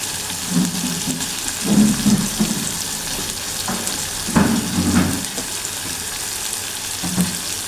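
Spices with homemade masala and a little turmeric sizzle steadily in oil in a pan while being stirred, with soft intermittent scraping and clinks of a spoon over the continuous frying hiss.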